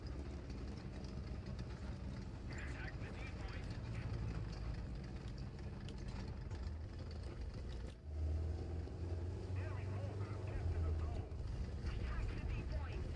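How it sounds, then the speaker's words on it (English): Tank engine in the War Thunder video game, a steady low rumbling drone that runs throughout with a brief dip near the middle, with people talking over it. "You think this tank knows it sounds really, really weird?"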